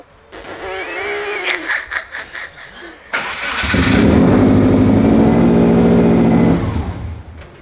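A Subaru car that had been failing to start, freshly fitted with four new spark plugs, cranks and catches, then revs loudly and steadily close by for several seconds before the engine note eases off.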